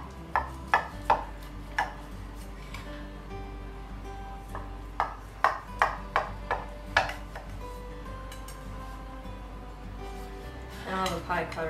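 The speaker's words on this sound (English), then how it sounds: "I'm going to cut a slice" A knife slicing through a baked treacle tart with a golden lattice crust, producing a series of crisp, separate crunches and clicks against the dish, close up, with quiet pauses between cuts.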